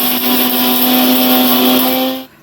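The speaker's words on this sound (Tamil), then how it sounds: "கையில் தூக்கிக்கிட்டே மிக்ஸி அடிப்பேன்னு இப்போ டாடி பண்ண போகிறாங்க." A mixer grinder whirs loudly with a steady high-pitched motor whine, then cuts off abruptly just before the end.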